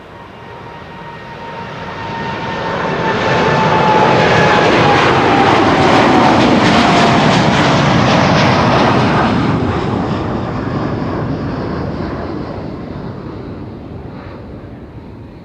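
An airliner on flight 361 to Willemstad, Curaçao, passes at Amsterdam Schiphol. Its loud jet roar and high whine swell to a peak midway, then slowly fade.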